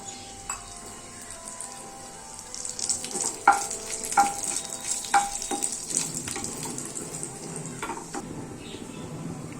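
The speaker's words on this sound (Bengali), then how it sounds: "2টা শুকনো লঙ্কা, একটু কালি জিরে ফোড়ন দিচ্ছি" Dry red chillies and kalonji seeds tempering in about a spoonful of hot oil, a steady bright sizzle with scattered pops and crackles, close and alone throughout.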